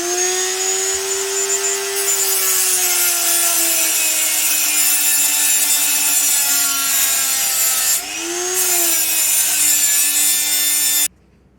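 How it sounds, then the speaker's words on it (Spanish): A Dremel rotary tool cuts through a crimp clamp on a tube of a Karcher Puzzi cleaner, a loud steady high whine that runs almost eleven seconds, dips briefly in pitch under load, then stops abruptly. "Le vamos a meter un poco de Dremel con cuidadito para no romper el tubo."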